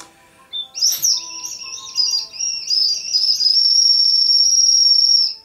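A water-filled whistle cup sounds a warbling, bird-like trill after a brief knock, its tone rising and steadying into a loud, sustained whistle that runs for several seconds before cutting off.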